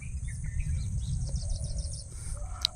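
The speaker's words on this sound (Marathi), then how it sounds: "हे बघा पक्षी बसलेत तारीवरती छोटे आहेत" Small birds perched on a wire chirp in short, faint tweets over a low rumbling background on a rural evening in Konkan, with a brief louder chirp near the end.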